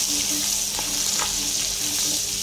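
Ginger sautéing in a small amount of oil in a pot, a steady close hiss of frying with faint stirring scrapes.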